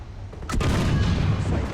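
Single booming cannon shot from an E100 heavy tank in War Thunder, a sharp loud blast about halfway through followed by a rumbling decay and engine noise.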